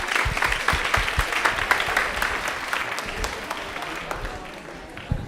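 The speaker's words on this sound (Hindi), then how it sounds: "ताली एक बार जोरदार हो जाए मौसम के लिए।" Audience applause at a quiz program about Indian Railways, dense clapping sustained for about five seconds with a few louder sharp claps near the end.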